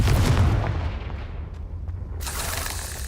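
A Confringo explosion spell from the game Hogwarts Legacy goes off with a loud, deep blast that decays into a rumbling tail before a bright burst of crackling debris near the end.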